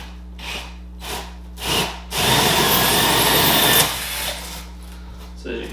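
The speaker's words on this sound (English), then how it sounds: "I'm just going to drill a hole in the middle here so we can stick our light through" Power drill driving a hole saw through a wooden bridge piece of an insulated incubator box, a loud steady grinding cut lasting under two seconds, framed by short rustles and handling knocks before and after.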